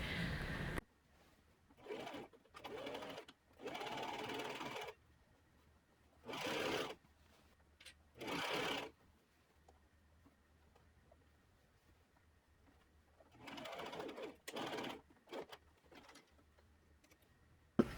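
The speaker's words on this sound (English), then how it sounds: "I'm just gonna sew that where I turned in that 1/2 inch-ish down." Sewing machine stitching down the turned-in hem of a cotton pencil dress, several short whirring runs of a few seconds each separated by quiet pauses, close and without talk.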